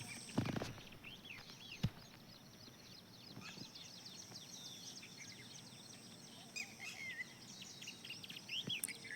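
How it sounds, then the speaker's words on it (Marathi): Faint birds chirp and tweet intermittently in a quiet morning outdoor setting, with a few soft clicks and thumps nearby. "तुम्ही पाहू शकता सकाळचं वातावरण व पक्ष्यांचा आवाज"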